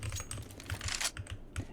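Rapid typing on a computer keyboard during CS:GO play: close, crisp key clicks in an uneven, busy rhythm, with a few heavier strokes standing out.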